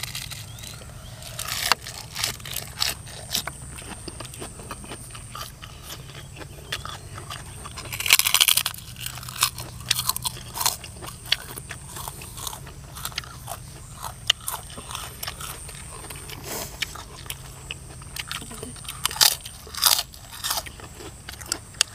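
Crisp fresh raw vegetables eaten alongside spicy whole cuttlefish salad, with repeated close crunchy bites and chewing scattered through the clip, some crunches louder than others, and no talk.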